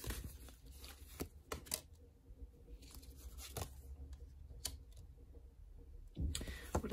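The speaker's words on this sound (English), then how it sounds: "Let's give the cards a good shuffle" Tarot cards shuffled by hand indoors, a series of quiet crisp riffling and flicking bursts at irregular intervals over a faint, near-silent background.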